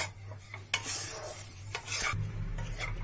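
A spoon scrapes and stirs a crumbly split chickpea lentil paste with sugar and garam masala in a hot pan, giving close, irregular scraping strokes over a low sizzle.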